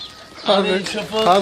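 Pigeons cooing in a rooftop loft, a few soft throaty coos close by, with men chatting over them.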